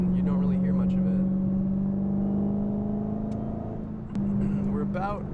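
A 717 hp Dodge Challenger Hellcat with an 8-speed gearbox cruises on Angeles Crest, its engine a steady, even low drone from inside the cabin, with a person talking over it at the start and end.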